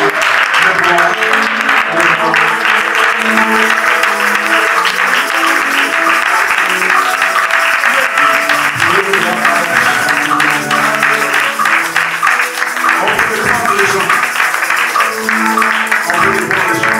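Congregation at an evangelical thanksgiving church service applauding and acclaiming, a steady loud wash of clapping and cheering that holds throughout, with music and voices mixed in.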